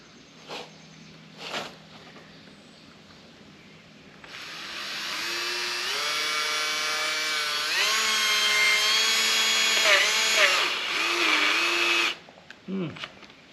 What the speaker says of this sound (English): My drill doesn't sound very good.